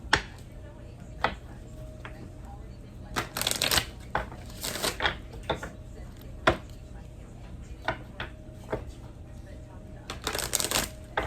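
Tarot cards are shuffled in short, crisp riffling bursts separated by pauses and scattered taps, close and moderately loud, with quiet talking between the shuffles.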